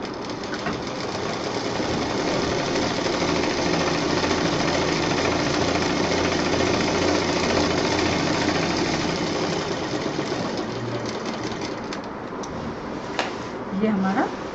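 Electric sewing machine running steadily while stitching one side of a bed cover made from a saree, a dense continuous whirring hum that carries on for most of the stretch and gives way to brief speech near the end.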